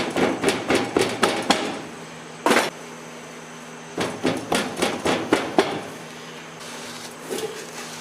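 Someone bumps down a sand mold for an iron griddle casting, a series of sharp, hard knocks in quick bursts with short pauses between, loud and close.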